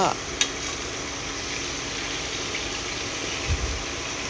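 Stuffed tofu filled with minced pork frying in hot oil, a soft steady sizzle running throughout at moderate level, with a couple of brief clinks near the start and a low thump later.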